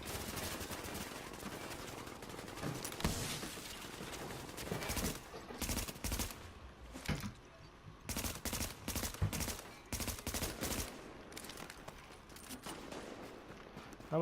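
Gunfire fills a firefight in The Division, with dense bursts of automatic shots, some close and loud, others more distant, breaking into separate volleys with short gaps between them.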